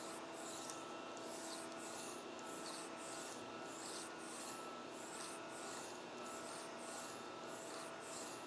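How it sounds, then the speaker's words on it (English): Scotch-Brite abrasive rubs back and forth through a cut-rifled rifle barrel bore, a steady hissing scrub with regular rhythmic strokes about twice per second over a constant machine-shop hum, faint and without speech. "when we run some Scotch-Brite through it"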